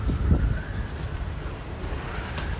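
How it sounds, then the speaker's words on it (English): Low, blustery wind rumbles against the microphone in steady gusts, with a faint whistling tone running above it. "it's getting windy"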